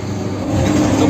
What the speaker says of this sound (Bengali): সে ট্রেনে করে আমরা আজকে যাচ্ছি।